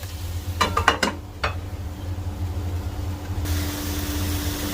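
Potato bhujia stirred in a cooking pan: a quick cluster of scraping clicks near the start, then a lone scrape, before a steady low hum and soft hiss take over.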